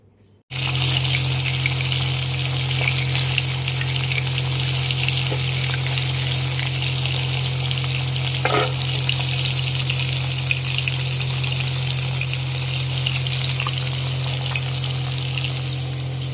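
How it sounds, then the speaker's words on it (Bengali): Cut potatoes frying in oil in a pan, a steady loud hiss that runs unbroken for the whole stretch over a constant low hum, with no voices. "আলু কেটে এখন ভাজবো"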